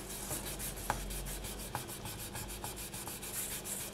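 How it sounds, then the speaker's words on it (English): Fingers rub back and forth across a polymer clay pendant, making a soft, close, continuous scraping with faint repeated strokes and a few small taps, with no talking. "So you want to rub across the entire piece, making sure that you don't have any areas that are doming."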